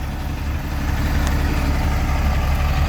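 A JUTC luxury express bus engine hums low and steady while driving, a continuous near rumble with road noise and no talk.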